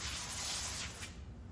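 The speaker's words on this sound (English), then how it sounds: "I've already got my bottle all pumped up, and we're just gonna spray it down" A pumped-up pressure spray bottle sprays cleaner onto a Tesla Model Y Juniper wheel and the inside of the wheel arch, one close, steady hiss of about a second that cuts off abruptly.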